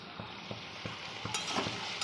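Fish frying in a pan on a gas stove with the flame turned up, giving a steady hiss of sizzling oil, faint scraping stirs and a few soft clinks.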